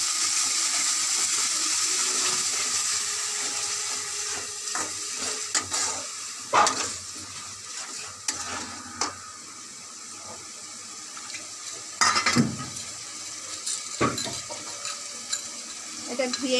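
Yogurt and spice paste is stirred in a cooking pan for chicken curry, with soft, intermittent wet scraping and sloshing sounds and a few louder clatters, fairly close and without talk.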